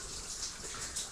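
Water runs steadily inside an old mine, a continuous hissing wash of flow with no breaks, moderately loud and heard alone without voices.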